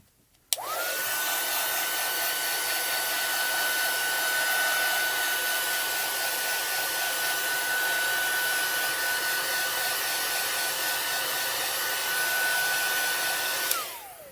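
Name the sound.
heat tool heat setting embossing on a card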